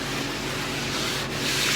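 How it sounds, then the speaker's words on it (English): Steady, continuous sanding rasps along the edge of a wooden table top to clear burn marks, a close, even abrasive rub with no pauses. "we'll do a little bit of sanding on that edge and kind of get rid of the burn marks"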